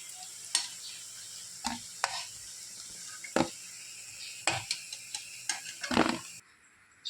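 Potato peel pakoras fry in hot oil with a soft, steady sizzle, broken by crisp clicks and scrapes as they are turned over one side at a time.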